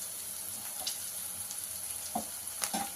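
Sliced onions sizzling with salt in a pan for gongura chicken curry, a steady close frying hiss with a few soft clinks and stirring scrapes, no voices.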